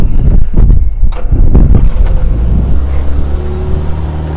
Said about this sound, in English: Sounds like a Mini, Mini exhaust.